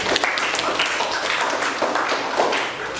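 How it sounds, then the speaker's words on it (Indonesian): Classroom applause for a student group, a dense steady patter of many hands clapping for about three seconds, fairly loud and continuous with no talk over it. "berikan tepuk tangan untuk kelompok 3"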